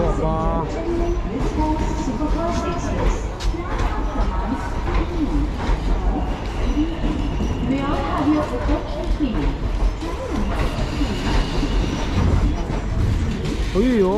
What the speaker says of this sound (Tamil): நம்ம ட்ரெயின் உள்ளே வருதுங்க.